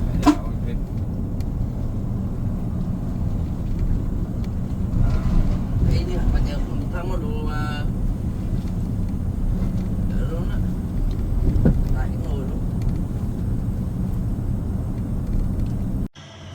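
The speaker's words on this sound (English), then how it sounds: "we're on another bus, and I'm in the back seat, or the very back bottom seat, which is the loudest seat here" Steady engine drone and road rumble fill the very back bottom seat of a moving sleeper bus in Vietnam, a loud continuous low roar with occasional rattles and brief hisses throughout, and no talk over it.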